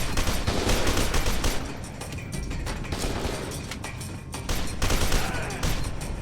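Sustained gunfire from the F.E.A.R. 2 first-person shooter, dense overlapping bursts of shots and impacts at steady loudness throughout, with a brief dip midway before the volley swells again.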